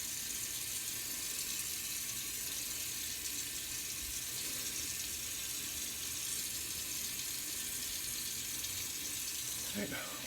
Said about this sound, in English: And then I always rinse it off with cold water afterwards.